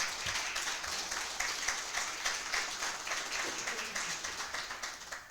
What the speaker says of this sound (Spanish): ven un aplauso al Señor